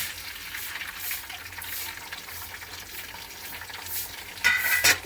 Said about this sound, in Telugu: ఇప్పుడు మంచిగా కలుపుతుంది. మిక్స్ చేస్తుంది.